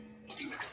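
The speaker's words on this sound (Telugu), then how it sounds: "ఇప్పుడు దీంట్లో మనకు సరిపడినంత వాటర్ వేసేసుకోవాలి." Water poured into a pan for black pepper rasam, a short splashing pour starting abruptly after a brief quiet moment, fairly soft and close.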